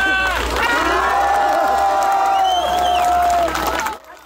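A crowd outside a military enlistment office in Ukhta cheers, whoops and applauds to send off the first men called up in a partial mobilisation, a dense loud roar of voices and clapping that fades out at the end.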